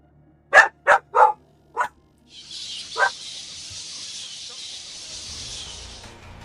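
Dogs in the Vampire: The Masquerade – Bloodlines video game let out four sharp barks in quick succession, then one more, before a steady hissing wash takes over and a low rumble closes the clip.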